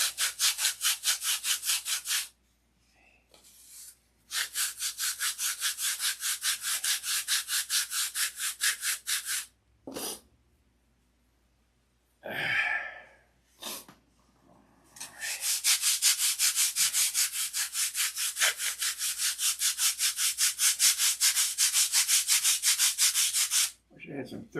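A part for a Sig Magnum is sanded down by hand with sandpaper in long bursts of loud, rhythmic scratchy rubbing, broken by short quiet gaps and a few knocks between strokes.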